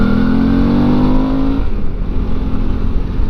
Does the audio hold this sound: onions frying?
no